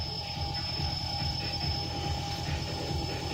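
Racing drone motors on a Matek F405 Astro X LD build spin during a bench direction check, giving a steady mechanical whir with thin high whining tones and a rough low buzz throughout.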